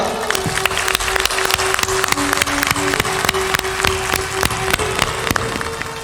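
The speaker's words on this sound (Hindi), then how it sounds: "थोड़ा जोरदार ताली बजाओ।" Audience at a live Hindu satsang gathering in Beldur, Bihar clapping loudly and steadily, sharp claps in a dense ongoing patter with a sustained tone from musical accompaniment underneath.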